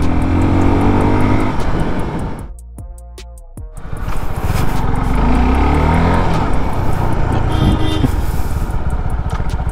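A 2021 Suzuki Gixxer SF 250 BS6 motorcycle ridden in a braking test: loud, close engine and road noise that dips briefly as the bike slows, then returns at steady riding level, with no talk.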